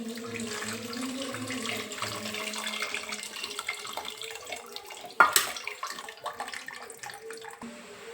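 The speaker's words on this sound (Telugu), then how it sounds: "ఇప్పుడు చింతనీళ్ళు వేసుకుందాం, చింతపండు రసం" Tamarind water is poured into a simmering mutton bone curry, a soft continuous splashing pour with a sharp knock of a vessel partway through.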